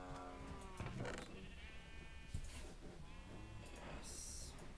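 Sheep in a survival-island video game give several bleats, spaced irregularly over quiet background sounds.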